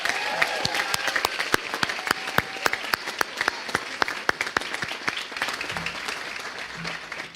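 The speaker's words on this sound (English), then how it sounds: "Can we just have another round of applause for student Dr. Maya Curry?" Applause at a medical school white coat ceremony, with distinct sharp individual claps standing out over a softer crowd wash, steady throughout before tapering.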